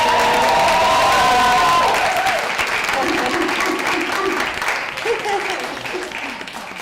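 An audience at a 2016 SPARC conference keynote breaks into dense, sustained applause that stays steady and fairly loud, then gradually thins toward the end, with faint voices murmuring underneath.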